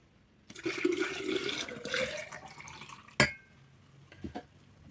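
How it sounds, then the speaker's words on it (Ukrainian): Water poured in a short, gurgling stream into a glass carafe, then a sharp clink of glass and a couple of soft taps afterward. "додаю воду."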